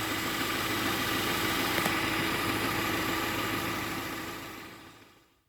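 A Subaru engine idles steadily after a throttle body cleaning, giving an even mid-pitched hum with faint vibration that holds constant and then fades out near the end, with no voices.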